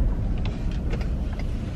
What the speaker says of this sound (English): And there's a million cars coming.